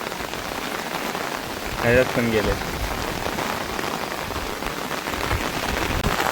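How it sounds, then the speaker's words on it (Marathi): Heavy rain pours steadily onto a farm field, a dense unbroken hiss with a brief spoken remark partway through. "पाऊस बघा किती आहे, पुन्हा वाढलाय पाऊस"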